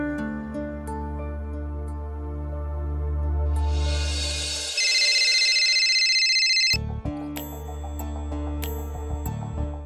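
A phone rings during a call in a TV serial scene: a swelling electronic tone cuts off and gives way to sharp repeating ring pulses, fairly loud and with no voices.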